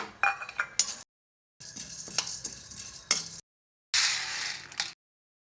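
Chana dal dry roasting in a pan without oil, stirred in three short bursts of scraping, rattling grains against the metal, close and moderately loud with silent gaps between.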